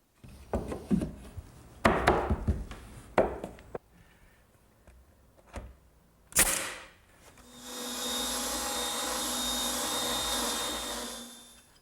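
A saw rips a wooden board lengthwise for a hearthside settle. A few sharp knocks and handling thumps come first, then the blade runs in a steady, loud, even whine and rasp for about four seconds.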